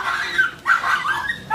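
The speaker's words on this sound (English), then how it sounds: "with dogs fighting." Dogs fighting outdoors in the Philippines, a run of whining yelps, yips and snarls in short bursts with brief pauses, moderately close and without talk.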